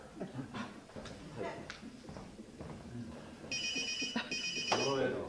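A telephone begins ringing indoors with a bright electronic warble in repeated bursts, rising over a person who keeps talking and laughing close by.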